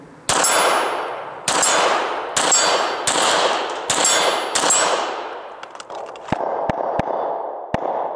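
Bullets striking an AR500 steel rifle target give a run of six loud, ringing metallic clangs about a second apart, each with a long decay, followed by several sharper, fainter pings and clicks.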